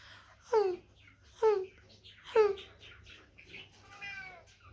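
A voice imitates a whimpering puppy: three short, high, falling whines spaced about a second apart, then a softer trailing whimper.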